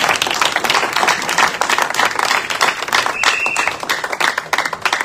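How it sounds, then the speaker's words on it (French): A church congregation claps and applauds together during a sermon, a loud, dense, steady wash of hand claps filling the whole stretch, with some voices and a whistle-like tone mixed in. "acclamons pour la gloire de Dieu"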